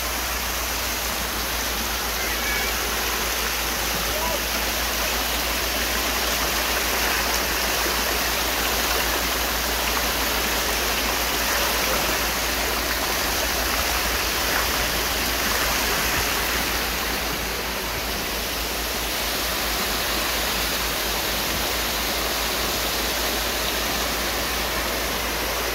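Water gushes steadily from a sand pump outlet during rainfall on a flooded house-foundation site, a dense continuous rushing roar with no talking.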